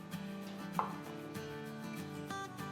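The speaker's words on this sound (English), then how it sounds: "After that, rotate the tofu and cut it into bite size." A knife cuts tofu into bite-size pieces on a board, soft repeated chops heard close and quiet.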